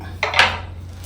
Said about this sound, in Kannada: ಸೊಪ್ಪನ್ನು ಎಷ್ಟು ಸಾಧ್ಯನೋ ಅಷ್ಟು ಸಣ್ಣದಾಗಿ ಕಟ್ ಮಾಡ್ಕೊಳ್ಳೋಣ